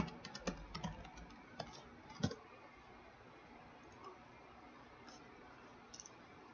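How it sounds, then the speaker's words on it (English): Typing on a computer keyboard while setting up a smart mirror: a few scattered key clicks up close early on, then sparse faint taps in a quiet room. "Now type in the IP address that you found before"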